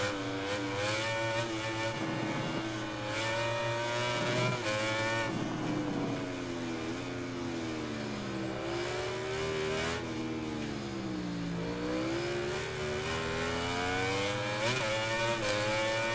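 Suzuki racing motorcycle engine in MotoGP 2020, screaming at high revs with rising and falling pitch as it shifts through gears, loud and continuous throughout with no talk.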